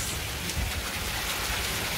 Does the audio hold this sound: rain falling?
yes